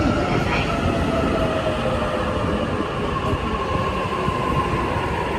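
A JR train arriving at a Shinjuku station platform, with a steady, loud rolling rumble of wheels and a faint rising squeal, filling the whole stretch without speech.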